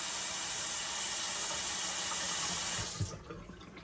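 Steady broadband rush of water pouring from a tap fills most of the clip, then cuts off abruptly near the end, leaving faint clinks.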